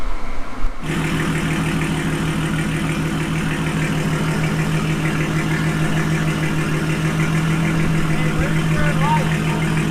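Supercharged car engine running steadily on a dyno at a constant idle-like pace, a continuous mid-low drone with a rhythmic pulse that stays loud and close throughout, with background voices underneath.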